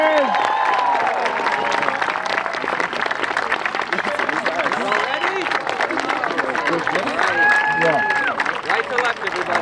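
Applause and cheering for the Gregory School class of 2019 at a commencement, many people clapping steadily as a crowd murmurs and a few voices call out over it.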